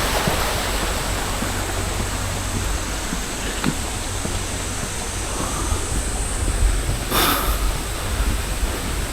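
Steady, loud rushing water with a broad, continuous roar from a waterfall pouring into a pond at a temple in Narita, Japan; a faint click and a brief higher sound cut through.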